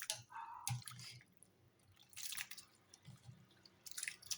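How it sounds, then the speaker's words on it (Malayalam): Cooked food dropped into a bowl of cold water, with wet squishy splashes and scattered drips coming in short bursts, close and fairly quiet. "ഇനി ഞാൻ എടുത്തു വെച്ച തണുത്ത വെള്ളത്തിലോട്ട് ഇതിടുക, ഫുള്ളിടുക."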